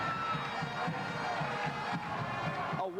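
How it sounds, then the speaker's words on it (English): Home crowd of Pikeville fans at a 1992 high school basketball semifinal against Johns Creek, a steady loud wash of applause and cheering filling the gym for a few seconds, with an announcer's voice faintly over it. "these Pikeville fans applauding the effort of their Pikeville Panthers squad"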